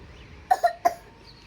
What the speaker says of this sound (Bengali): এটা এটা তো ঢঙের কাশি হলো